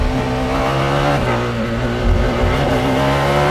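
McLaren Solus GT single-seat hypercar with an 858bhp V10, screaming at high revs on a race track, a loud, sustained harmonic engine wail close to the mic with slight pitch shifts and no talk.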